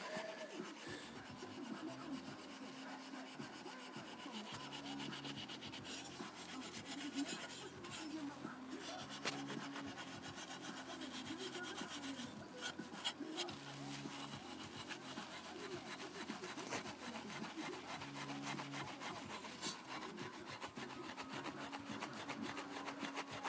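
Steel wool scrubs a water heater thermocouple in a continuous, faint, scratchy rubbing, close and steady throughout.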